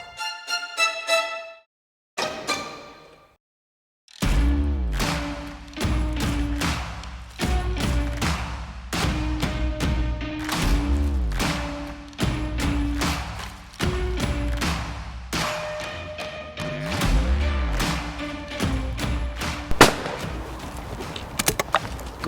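A Webley gun fires repeatedly at an outdoor shoot, a rapid string of sharp cracks and heavy booming reports that echo, some in quick pairs, loud and close with brief gaps between bursts.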